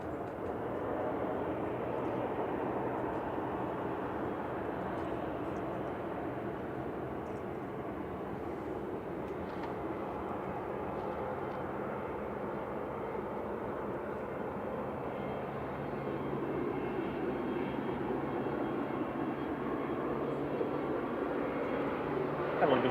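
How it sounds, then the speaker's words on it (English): An Aer Lingus Regional plane departing Manchester Airport gives a steady, distant jet roar that holds evenly and swells slightly toward the end, with faint outdoor background. "Aer Lingus Regional departing to Dublin with flight 3329 now."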